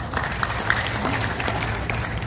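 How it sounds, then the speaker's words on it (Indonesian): A crowd at a peaceful civil servants' rally in Papua applauds, a busy wash of many hands clapping at once, steady and moderately loud over a low background rumble. "Kita tepuk tangan untuk mereka."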